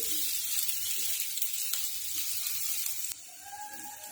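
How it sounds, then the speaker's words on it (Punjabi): Onion and garlic fry in a pan with a steady, close hiss of sizzling oil throughout, with a few faint stirring knocks and no talk. "ਪਿਆਜ਼ ਤੇ ਲਸਣ ਆਪਾਂ ਬਣਾ ਲਏ ਥੋੜੀ ਦੇਰ"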